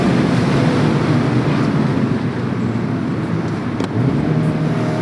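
A Mazda Miata ND2 Club with a 2-liter naturally aspirated four-cylinder drives along back roads. Steady engine and road noise carries through, with heavy wind rush over everything.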